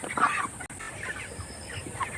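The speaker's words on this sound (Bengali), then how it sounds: "পুরো একদম ঘর ভর্তি মুরগি" Chickens in a crowded poultry house on a family farm cluck in scattered bursts, close and fairly faint, over a steady background hum.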